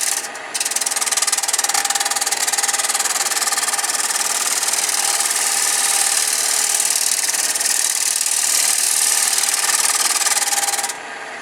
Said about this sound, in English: Shaping this up and doing the shear scraping, I want to keep the handle low